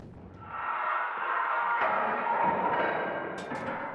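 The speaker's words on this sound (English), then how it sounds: "There is one specific sound that we are listening for, however, almost like a metallic banging sound." A sustained metallic banging and rumbling drone from the Battlefield 1 video game, a hollow resonant clang lasting several seconds with a brief sharp click near the end, no voices over it.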